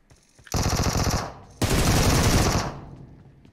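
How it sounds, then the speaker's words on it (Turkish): Automatic gunfire in PUBG Mobile, two loud sustained bursts of rapid shots close by, the second longer and trailing off, with no talking over it. "Aa biri sıkıyor."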